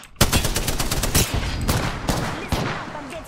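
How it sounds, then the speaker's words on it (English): Loud, dense automatic gunfire from an Apex Legends match rattles close by in rapid bursts that fill the whole stretch without pause. "I'm getting shot at."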